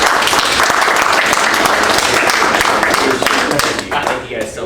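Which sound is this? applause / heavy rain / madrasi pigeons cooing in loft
applause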